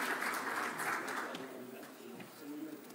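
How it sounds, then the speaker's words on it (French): A conference audience on sustainable building and eco-responsible materials gives a burst of moderate applause that fades after about a second, leaving a quieter room with a faint voice. "Sous vos applaudissements, bien sûr, c'est Abdallah."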